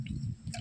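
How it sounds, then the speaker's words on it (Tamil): Water sprinkled lightly over vegetable seeds sown in coconut-husk coir, giving soft dripping, squishing patter in a few close bursts with a brief pause between them. "விதைப்பு செய்த விதையும் மேற்பகுதியில் லேசாக தண்ணீர் தெளிச்சிடுறோம்"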